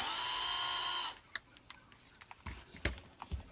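A power drill bores a hole through a craft desk camera stand, whirring steadily for about a second before cutting off, followed by scattered light clicks and taps as the bit is withdrawn.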